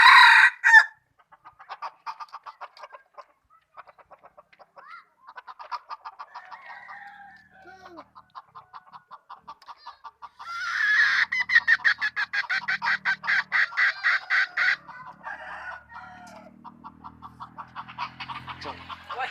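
Chickens cluck steadily while a rooster crows nearby, with a long run of rapid, regular clucking in the middle and faint talk in the background.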